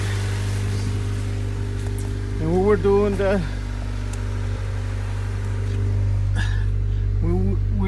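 A 1998 Honda Civic with about 209,000 miles idles smoothly, its engine a steady low hum throughout while someone talks over it.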